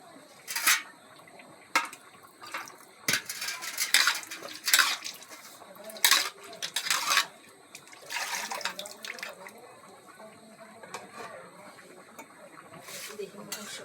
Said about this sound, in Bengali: নিচে একটু তাওয়া দিয়ে রাখি, তাড়াতাড়ি হয়ে যাবে।